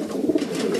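Racing pigeon cooing inside its loft cell after returning from a race, a soft, low, continuous coo rising and falling over less than a second, close by, with no talk.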